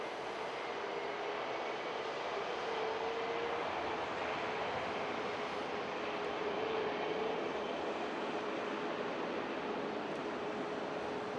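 Turkish Airlines Airbus A321 in special Euro League livery arriving at Manchester Airport from Istanbul; a steady, broad jet roar holds evenly throughout, a moderate-distance engine drone with a faint whine, no voices.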